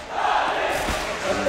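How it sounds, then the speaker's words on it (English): Arena crowd at an EnVyUs versus Gplay.BG esports semifinal cheering and shouting steadily in the background, a broad continuous roar with a brief swell midway and no clear speech. "And you can hear that cheer in the background."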